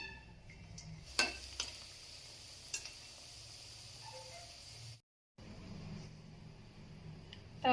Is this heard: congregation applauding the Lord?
no